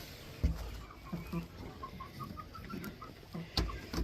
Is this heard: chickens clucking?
yes